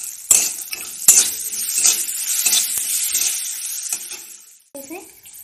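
Spoon stirring and scraping potato filling with salt in a hot pan, steady sizzling frying noise with repeated scraping strokes, close and fairly loud.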